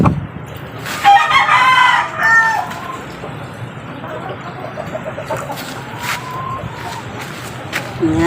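A pet rooster gives a loud, close crow early on, then softer clucks and scattered calls follow over quiet outdoor background.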